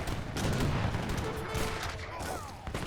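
Gunfire and cannon fire in the Age of Empires 3 strategy game, dense continuous volleys of shots and booms from a battle, loud and overlapping throughout.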